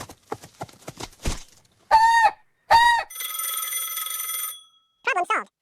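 A rooster-crow alarm sounds in two loud, harmonic squawking bursts, then a sustained electronic ringing tone, and a final short crowing burst. Faint clicks and rustles come before it.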